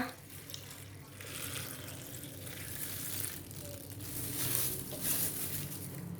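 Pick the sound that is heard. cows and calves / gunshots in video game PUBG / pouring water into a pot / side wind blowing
pouring water into a pot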